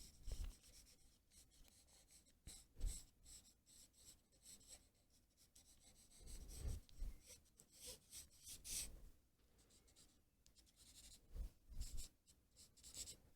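Nitram charcoal scratching across paper in quick sketching strokes, soft and close, with uneven bursts of rasping marks and brief pauses between them.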